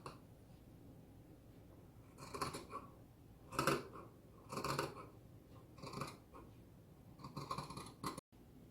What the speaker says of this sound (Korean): 가위로 잘라주는 게 좋아요.